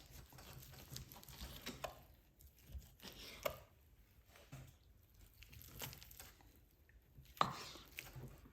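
A knife slices through deer meat while venison is deboned, giving faint, intermittent tearing and squishing cuts, close and quiet, with a few sharper snips.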